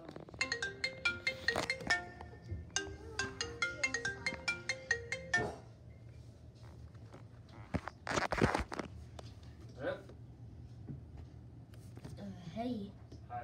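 A phone ringtone plays a repeating melodic pattern for several seconds, then stops, followed by thumps and faint handling noise.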